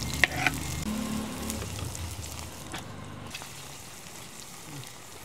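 Onion and green chili sautéing in a pan give a steady, close sizzling hiss with a couple of sharp utensil taps at the start, then the frying fades to a softer, even crackle.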